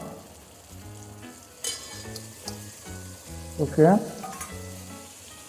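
Vegetables and green peas frying in a pan for veg biryani, with a steady sizzle and stirring scrapes, while a person talks over it.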